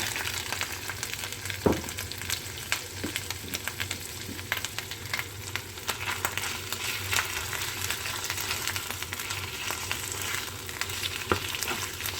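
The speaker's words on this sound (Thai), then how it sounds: "ได้ที่แล้วค่ะแล้วก็เอาหมูใส่ลงไปเลยค่ะ" Pork dropped into sizzling curry paste in a pan for a Thai jungle curry with mushrooms and nuts, a steady loud frying hiss with a few sharp pops and stirring scrapes throughout.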